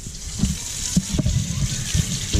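Tap water runs steadily while a Brondell Cypress water filter, just reassembled after an olive-oil-lubricated push-valve fix, is rinsed under it, with a broad continuous gush and a few soft knocks and splashes near the sink.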